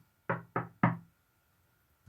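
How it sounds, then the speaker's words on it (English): Three firm knocks on a house door in quick succession, close and distinct, followed by quiet. "you-know-who knocks on our door"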